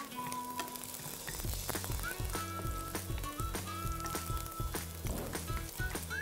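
Chopped garlic sizzling in hot Nutrela refined soybean oil, a crackling fry under background music with a rhythmic low beat, fairly close and steady.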